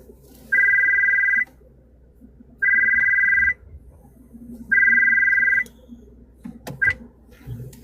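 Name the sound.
telephone ringing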